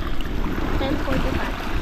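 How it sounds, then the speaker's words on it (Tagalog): Strong sea waves from a small fishing boat at sea, a loud constant washing and sloshing of water close by with wind noise, filling the whole stretch. "So guys, update. Lumakas ang alon."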